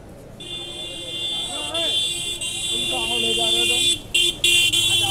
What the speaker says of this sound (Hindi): ओ भाई, सारा हॉर्न आज ही बजा देगा के।